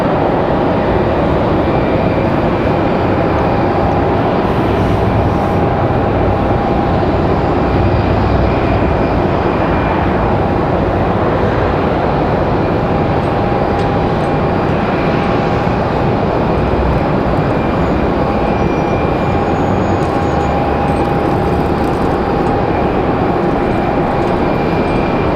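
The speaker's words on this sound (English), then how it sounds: "We got Copa 466 on final. Looking at 3 hours, 45 minutes of flight time for the 737 from Panama City." A Copa Airlines Boeing 737 with winglets, arriving from Panama City, on final approach at Raleigh-Durham International. A loud, continuous engine roar with a steady whine holds throughout.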